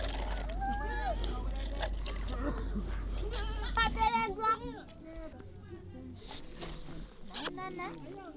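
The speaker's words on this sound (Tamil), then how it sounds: "குழந்தைங்க எப்படி அழகா ஆட்டுப்பால் கறக்குறாங்க அப்படின்றத பாருங்கள்" Goats bleat repeatedly and near while children milk them in a Himba village setting, with splashing milk and steady chatter of people talking throughout.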